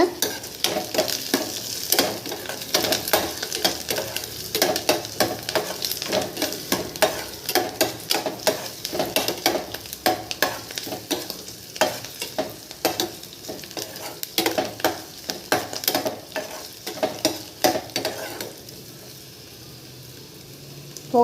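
Curry leaves crackle and spit in hot oil while a spoon stirs them, producing dense, close sizzling with rapid pops and scraping that eases to a quieter hiss near the end.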